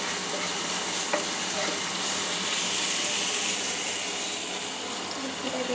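Green chilies sizzle and fry in a little oil while being stirred in a pan during home cooking, a steady, close, loud hiss that runs unbroken throughout.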